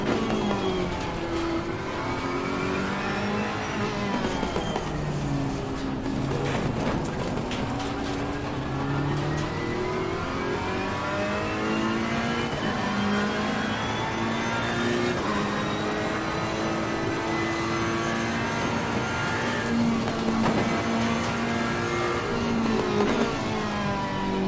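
Race car engines at Zandvoort in Assetto Corsa Competizione, including a Bentley ahead, drone and rise steadily through gear changes, a close, loud, continuous engine note sweeping up and down with no voices.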